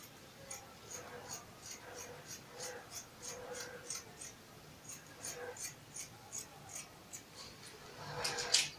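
Steady snipping of scissors cutting fabric for a turban cap, a quick run of soft, close cuts with a faint scrape at the end and no voice over them.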